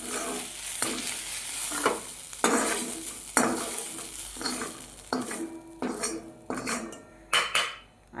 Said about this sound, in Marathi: आता आपल्याला हे एका ताटामध्ये काढून घ्यायचं आहे.